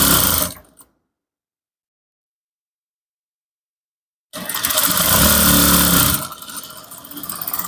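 Brief whir of a sewing machine stitching down trouser lining, starting abruptly after a long silence and running close and loud for a couple of seconds before easing into a softer, uneven hum.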